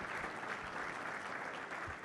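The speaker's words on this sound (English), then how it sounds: "kindly put your hands together for a big round of applause" Faint, steady applause from an audience at an EV industry conference panel, distant and continuous with no talking over it.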